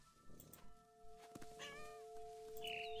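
A cat in What Remains of Edith Finch gives a couple of short, wavering meows over steady background game music, soft and close, with no talking.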